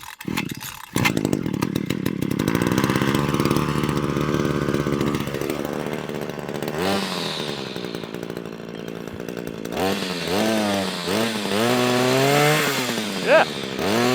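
A Cobra multi tool's small two-stroke engine, choked and primed after a pull-cord repair, roars loudly and steadily for most of the stretch, then revs up and down in rising and falling surges near the end.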